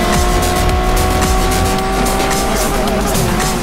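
A Lamborghini SC20, based on the Aventador SVJ with its 770-horsepower V12, roars loudly and continuously, its engine note steady and close throughout with no voices.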